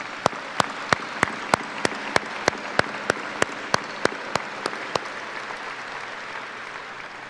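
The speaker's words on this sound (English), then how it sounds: "Please join me in giving them a well-deserved round of applause." Audience applause for retiring teachers at a 2017 Seaman High School graduation ceremony: a large crowd claps for about five seconds with evenly spaced sharp claps standing out, then fades to quiet room noise.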